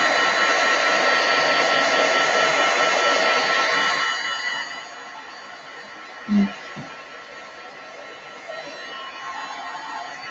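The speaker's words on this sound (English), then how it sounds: "I'm just going to quickly heat set that one just so I can use the stencil pretty quickly" A heat tool blows steadily and loudly up close to heat set ink on paper for a stencil craft, then cuts off about halfway, leaving a quieter background with a soft knock.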